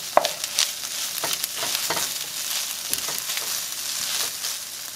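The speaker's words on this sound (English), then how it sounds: "Give that a good stir." Garlic, onions and shredded beef sizzle in a hot pan while a utensil stirs them, with scraping clicks and rustles over a steady frying hiss, fairly close, with no talking.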